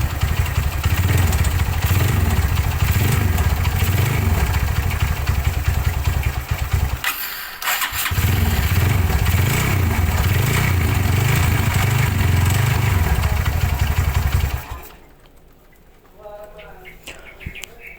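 A Yamaha Megapro motorcycle engine idles roughly with a loud, uneven pulsing rumble, cuts out briefly, restarts, then shuts off near the end, leaving quieter background.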